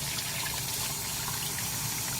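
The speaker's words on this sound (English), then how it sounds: "So now you just want to run the water through." Water runs steadily from a tap into a mug in a dorm room, a continuous splashing hiss as it fills, with no voices.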